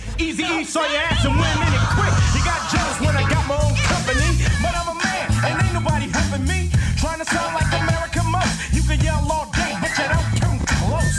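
Ice Cube's "No Vaseline" plays, a rapping vocal over a heavy, thumping bass beat, loud and continuous.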